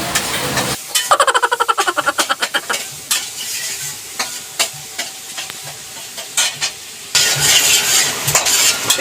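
Garlic and onion sizzle in a hot pan and are stirred vigorously, with a fast run of rhythmic scraping strokes followed by louder clattering and a steady frying hiss.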